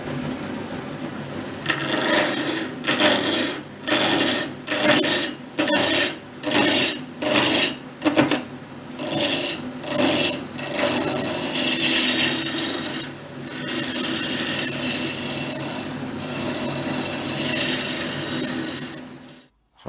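A wood lathe rounds a spindle blank, the gouge rasping against the spinning wood in a string of rhythmic, evenly spaced scraping strokes, then giving way to a longer continuous cut, loud and close.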